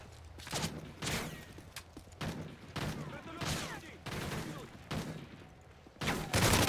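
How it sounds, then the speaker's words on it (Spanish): Gunfire fired at the player during a survival mode match of the shooter game Resistance, loud repeated bursts and volleys of shots coming in rapid clusters throughout. "¿Qué me está disparando?"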